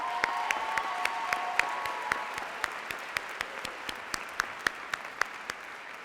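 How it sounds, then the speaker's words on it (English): A large crowd at a high school graduation ceremony applauds family and friends, a broad wash of clapping with a few sharp, regular claps standing out nearby, fairly distant and unbroken by speech. "Class of 2015, let's give family and friends a round of applause"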